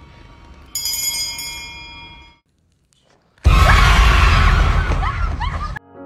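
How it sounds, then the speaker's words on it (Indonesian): A bright bell rings with a lingering metallic tone that fades out, then after a short silence a loud burst of harsh, screaming noise erupts. "terdengar suara lonceng"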